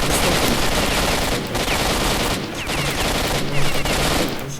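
Gunfire from a weapon in a video game, a dense, rapid fusillade of loud shots rattling almost continuously, with a few short gaps between bursts.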